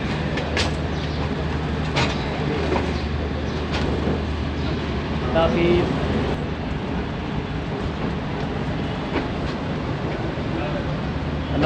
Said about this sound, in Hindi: 8:30 बजे पेशावर कैंट रेलवे स्टेशन छोड़ चुकी है 14 टाउन अवाम एक्सप्रेस